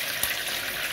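Water from a kettle pours into a pan of frying home-style cutlets, giving a brief, steady hissing, sizzling wash of sound close up.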